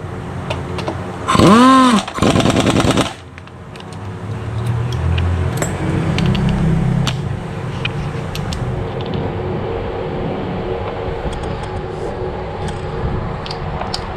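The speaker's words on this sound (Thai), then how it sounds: "ก็ยิงน็อตได้เลยนะครับ" An impact wrench drives nuts while a stainless rear-wheel anti-vibration bushing is fitted on a Forza 350 motorcycle. It gives one close, loud whirring, rattling burst of about two seconds, followed by quieter workshop background.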